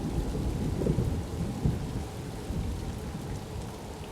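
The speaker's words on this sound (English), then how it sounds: "I saw rain fall in the desert." Steady heavy rain pours over desert sand while low rumbles of thunder roll through, with a louder crack near the one-second mark and continuous dense patter throughout.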